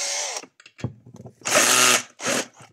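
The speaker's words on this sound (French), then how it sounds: "toujours la perceuse" A power drill whirs in loud bursts while being used to turn over a McCulloch brush cutter engine that won't start, a couple of short spins and then two longer runs, close up with brief pauses between.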